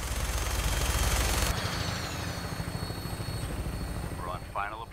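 A Fallout 4 aircraft drones loudly on its final approach, a dense steady engine roar that drops slightly in level partway through, with a brief voice near the end.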